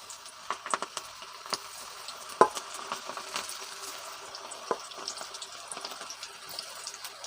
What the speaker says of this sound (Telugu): ఇప్పుడు మనం దీన్ని కలిపెట్టుకున్నది చక్కగా కొంచెం మనం ఇప్పుడు ఆయిల్లోకి వేసేసుకుంటున్నాం.